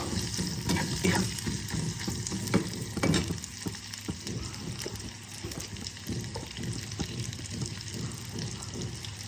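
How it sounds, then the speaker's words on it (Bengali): Chopped onions frying in a pan make a busy, close sizzle, broken by light clicks and scrapes of stirring that come in quick bursts at first and then ease to a steadier crackle. "এবার দেখো আমি কুচিয়ে নেওয়া পেঁয়াজগুলোকে দিয়ে দিলাম। ভালো করে ভেজে নেব।"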